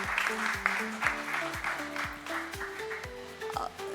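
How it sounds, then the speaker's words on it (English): Audience applause at an IVF fertility care panel event, steady clapping through the hall with music or tonal sounds layered over it. "Let's give her a round of applause."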